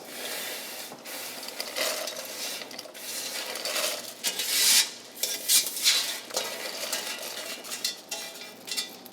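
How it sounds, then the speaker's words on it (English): Butter and toasted nuts go into hot caramel cooked to hard crack, with scraping, clinking stirring and rattling against the pot at close range. The bursts of scraping come and go irregularly, and no one talks. "I'm gonna add butter and my toasted nuts"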